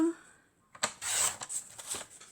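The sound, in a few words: cutting paper card for pop-up card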